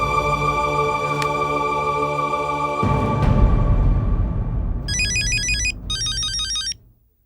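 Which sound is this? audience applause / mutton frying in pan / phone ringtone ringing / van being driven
phone ringtone ringing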